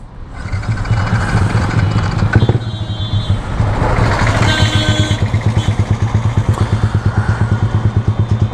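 A Yamaha R15 V3 motorcycle engine cranks and catches, then settles into a loud, rapid, uneven putter, not idling properly, with a few revs in between, close and continuous.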